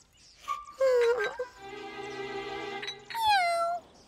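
A kitten meows several times, high and rising then falling, with soft rustling between the calls.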